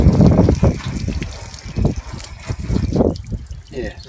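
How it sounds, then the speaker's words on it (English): A garden hose rinses the front guard of a car being polished back to bare metal, with a steady trickling, splashing flow of water running under people talking close by. "We've just done that little front part of the front guard and we'll just hose it off."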